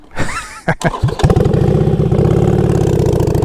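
A motorcycle engine is started with a few sputters and then settles into a loud, close, steady idle with an even rhythmic chug while the bike stands still.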